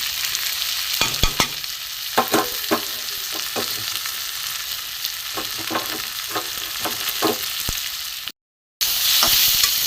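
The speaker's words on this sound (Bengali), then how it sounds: "একটু ভালো করে ভেজে নেবো আমি এবার এই মশলাগুলো সব দিয়ে দেবো" Spices with grated ginger fry loudly in a pan for a river fish curry, a continuous close sizzle broken by repeated scraping stirs, cutting out briefly near the end before resuming.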